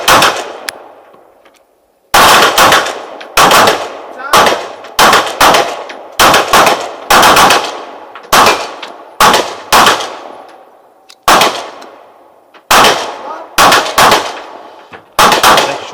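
SIG P210 9mm pistol shots on a 25 m outdoor range, loud single reports with ringing tails, fired one at a time in uneven groups, some close pairs and longer pauses between.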